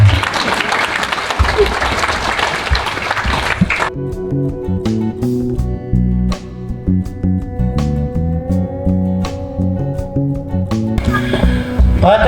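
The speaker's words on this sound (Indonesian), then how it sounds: "Tepuk tangan lagi semua." Congregation applauding during a Catholic sermon, loud clapping for the first four seconds, then a church keyboard and music take over with applause returning faintly near the end.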